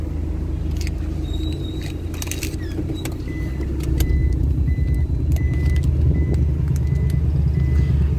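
Car at a tyre-change shop, engine rumbling steadily with a low hum while intermittent reversing-style beeps and metallic clinks sound nearby, no talk.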